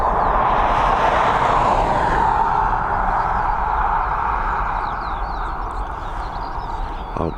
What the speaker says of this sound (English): we're heading over to Madrid now with this Boeing 737 MAX